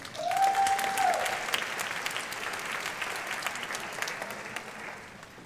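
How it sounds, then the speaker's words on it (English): Steady applause from a room full of people at the Ms. Senior DC Pageant 2018, loud at first and gradually thinning out, with a short tone at the start. "You can give her another round of applause, please, for me."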